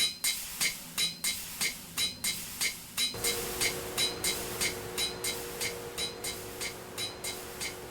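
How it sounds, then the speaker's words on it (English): Forge hammers beating in the Minecraft GTNH modpack, sharp metallic clanks repeating in a steady rhythm, about three strikes a second, while a low machine hum joins partway through. "Listen to the song of industry. The forge hammer beat."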